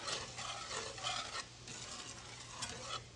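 Heavy cream is stirred into a hot pan just emptied of shrimp, a soft steady swishing and scraping with a faint sizzle underneath, close and quiet, continuing without speech.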